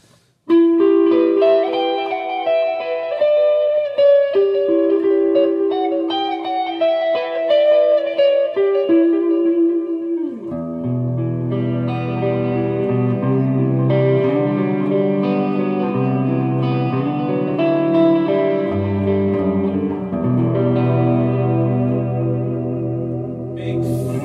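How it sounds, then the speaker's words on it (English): An electric guitar runs through the distortion effect of a Zoom MS-50G multi-effects pedal placed in an amp's effects loop. It plays gritty sustained chords and riffs with an echoing tail, loud and alone. "oh, distortion through an effects loop"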